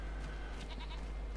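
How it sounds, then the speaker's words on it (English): Goats bleat in the farming video game Farming Simulator 25, a short, wavering in-game cry standing alone over a steady background hum. "Check these goats."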